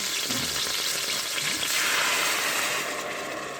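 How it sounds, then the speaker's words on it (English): Guinness Extra Stout hitting hot meat in an Instant Pot to deglaze, a loud steady sizzle and bubbling hiss filling the whole stretch, close and unbroken. "Now I'm going to deglaze it with the beer, with the stout."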